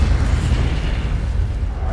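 Incendio fire spell blast from Hogwarts Legacy, a dense low rumbling boom that roars steadily for a couple of seconds with no pause, loud and close.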